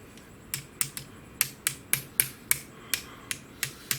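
Light hammer taps on a pin in an air rifle trigger assembly, about a dozen sharp, close metallic ticks at an uneven pace, some louder than others, with no talk.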